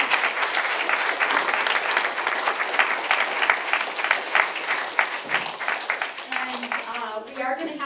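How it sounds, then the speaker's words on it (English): An audience at a playwrights' storytelling celebration breaks into sustained, full applause, which tapers off near the end as a voice begins speaking. "please give them a round of applause"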